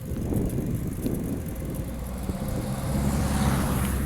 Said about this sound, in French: j'entends des bruits de voiture